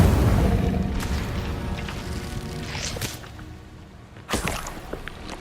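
The fire spell Incendio goes off in the Hogwarts Legacy video game with a loud whip-like crack and a booming burst of flame. A roar fades over several seconds and then a second sharp blast comes near the end.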